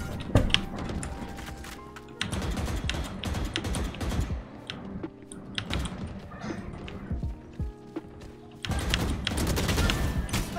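Bursts of gunfire from the video game Valorant come in clustered rapid volleys separated by quieter stretches with clicky keyboard-like taps, fairly close and loud.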